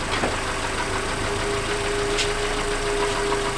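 Car engine running steadily in first gear as the clutch is let out in small increments to avoid stalling, a continuous mid-pitched hum with a faint whine, heard near and alone for a few seconds while the engine mount is checked.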